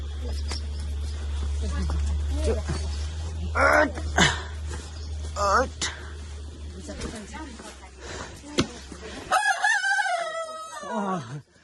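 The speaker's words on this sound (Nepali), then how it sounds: "भाले पनि बाँसिगयो" A rooster crows loudly near the end with a long wavering call, following a stretch of people talking and shouting over a low steady hum, during a journey to Daunne temple.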